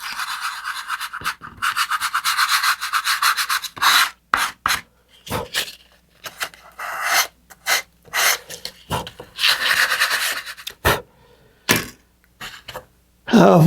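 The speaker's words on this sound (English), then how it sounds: "So I got some 320 grit sandpaper, and I'm going to gently sand that edge." 320-grit sandpaper rubs briskly back and forth by hand along an edge of a model rocket kit, in repeated rasping strokes of varying length with brief pauses between, close up.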